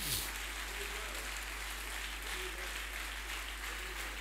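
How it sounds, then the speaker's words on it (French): A church congregation at a Sunday worship service claps for Jesus, giving sustained, fairly even applause that fills the room at moderate distance, with a low steady hum underneath. "Clap for Jesus."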